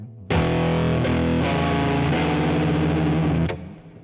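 A distorted electric guitar plays a slow, laid-back blues riff of a few heavy notes and chords, loud and sustained, ending with a wavering held note.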